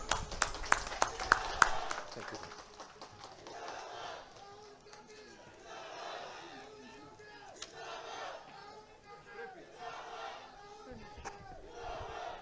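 Political rally crowd in Imphal, Manipur, cheering and shouting in rising waves after a few sharp claps, sustained roaring voices for several seconds at moderate distance.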